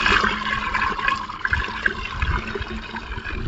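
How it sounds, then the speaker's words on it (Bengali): Water splashes and rushes steadily across a spot on a sunny rooftop, a continuous close hiss of flowing liquid with no speech. "দেখি এটা জল নিয়ে ওখানটা একটু ধুয়ে না দিলে ওই পুতুলগুলো সব নোংরা লেগে যাবে"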